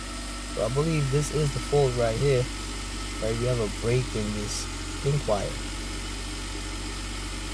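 A 2015 Nissan Rogue engine idles with a low, steady hum beneath someone talking close by, its note shifting slightly as a broken wire with a transmission-control communication fault is handled.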